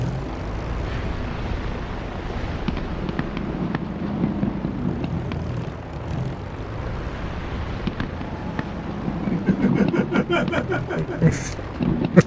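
Spitfire piston engine in the DCS flight simulator drones steadily and loudly throughout, with a rough mid-low hum and scattered clicks and rattles toward the end.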